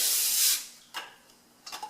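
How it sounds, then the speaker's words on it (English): A long hissing burst of olive oil cooking spray onto a cookie sheet, then two shorter quieter spritzes, close by with no talking. "spraying a cookie sheet with olive oil spray"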